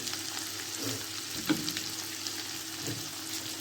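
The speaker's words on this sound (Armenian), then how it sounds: "ես հիմա ավելացնում եմ այստեղ լեչոն" Lecho added to a frying pan on lowered heat, a soft close sizzle with a few sharper spatters and light stirring, no voices.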